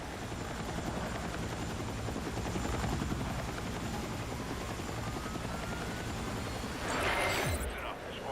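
Helicopter in the video game Battlefield 6 REDSEC, a loud continuous rotor thump and engine drone heard up close throughout, swelling near the end with a rushing sweep, while a player talks quietly underneath.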